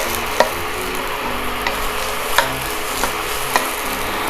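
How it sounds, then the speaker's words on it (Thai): Chicken breast and sweet bell peppers stir-fried in a pan, a steady loud sizzle with occasional scraping clicks of a spatula every second or so, close and without talk. "แล้วก็ผัดนะครับ ผัดเข้าไปครับ"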